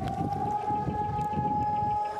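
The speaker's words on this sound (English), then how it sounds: "a siren sounded throughout the country" A civil defense siren sounds a long, steady, unbroken wail across Israel on Holocaust Remembrance Day, loud and sustained with no other sound.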